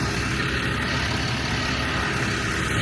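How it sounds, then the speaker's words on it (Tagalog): A bus engine idles at a roadside stopover in Dubai, a steady low rumble that fills the whole stretch without a break. "Ang ingay ng bus"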